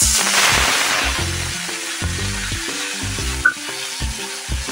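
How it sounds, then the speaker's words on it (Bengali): Onion, ginger-garlic and chili paste frying in a pan for Bengali doi katla, a loud crackling sizzle that settles as a spoon scrapes and stirs in repeated strokes. "এবার এর মধ্যে দিয়ে দেবো পেঁয়াজ, আদা রসুন আর লঙ্কা বাটাটা।"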